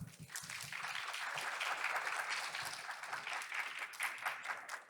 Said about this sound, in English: Ladies and gentlemen, let's give them another big round of applause.